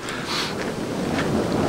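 Strong wind sweeps across a hilltop above Frauenalb and buffets the microphone with a continuous loud roar and rumble, gusting slightly stronger at moments, with no talking.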